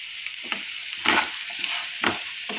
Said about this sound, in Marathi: छान असं परतवून घेऊ।